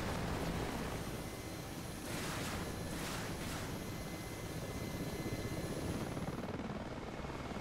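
A Mil Mi-8MTV2 helicopter in DCS World drones steadily, its rotor making a dense, continuous roar with a few brief swelling whooshes of blade noise.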